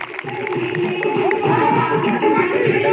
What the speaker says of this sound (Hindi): जोरदार ताली एक बार और मेरी तरफ से इस बालिका के लिए